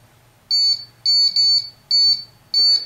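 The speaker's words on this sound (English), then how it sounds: "let the alarm go off straight" A piercing alarm sounds in a hotel setting, firing in five short, loud, evenly spaced electronic beeps over a quiet background, the last burst slightly rougher.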